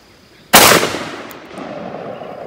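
A Citadel Warthog shotgun fires one loud, close blast at a shooting range, with its stock in a loose, sketchy state; the sharp report rings and decays over about a second into background noise.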